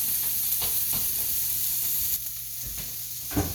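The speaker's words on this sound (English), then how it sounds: "These onions are going to cook." Onions fry in a pan with a loud, steady sizzle throughout and a few soft stirring knocks, close and continuous, with no voices.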